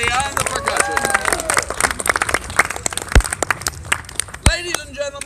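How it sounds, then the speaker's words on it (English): Audience applause for a percussionist at a music and magic show, a burst of clapping mixed with crowd chatter and a few sharp thumps, loud and close. "How about a big round of applause for Paul Cadaddy on the percussion?"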